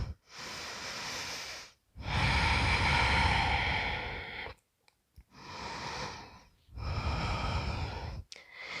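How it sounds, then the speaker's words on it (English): Slow, deep breaths during a yoga session, with long airy inhales and exhales separated by brief pauses, close and fairly quiet with no talking. "Let's take a few more breaths here."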